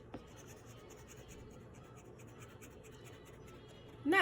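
A pen scratches steadily across paper, sketching decorative detail atop a building in a drawing, with a close, continuous light scratching and a louder stroke at the very end.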